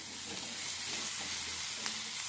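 Onions frying steadily in a pan for a chapati and ridge gourd palya meal, a continuous close sizzle with small crackles and one brief sharp pop near the end, no voices.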